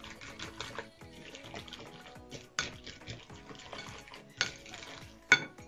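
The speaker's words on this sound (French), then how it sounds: "On mélange le tout." A mixture of egg for an omelette is stirred briskly in a bowl, giving quiet rapid clinks and scrapes of utensil against the bowl in an uneven rhythm, with a few sharper knocks near the end.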